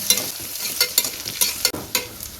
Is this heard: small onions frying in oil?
yes